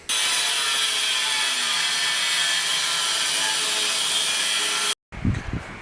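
A power tool grinds steadily through a transmission mount for a Nissan 240SX, a loud continuous cutting whine for about five seconds that stops abruptly, followed by a short clunk.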